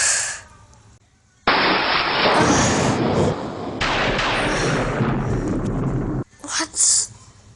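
Thunder cracking during a lightning storm in a video game, a sharp loud burst followed by a long, heavy rumble that cuts off, then a few smaller crackles.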